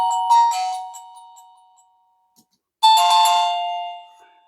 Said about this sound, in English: You can change the chime.